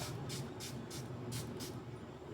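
Spray bottle misting water onto hair from top to ends, a series of five quick soft hissing spritzes in a loose rhythm, close but faint over a low background rumble, no talk.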